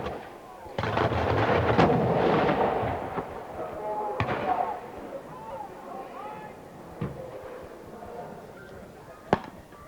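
Cannon fire at a historical reenactment at Kirby Hall: a loud boom followed by a long rolling rumble, then several sharper, fainter reports spaced out over the following seconds, with voices in between.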